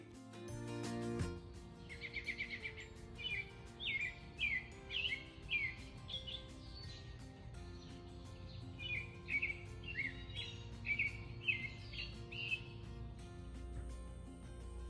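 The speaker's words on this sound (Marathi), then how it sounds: "चला म्हणलं पक्ष्यांची किलबिलाट थोडीशी कानावरती घ्यावी" Birds chirp and sing outdoors on a rural farm in Canada on a morning after night rain, a series of short, bright repeated calls at moderate distance over a quiet, low background hum.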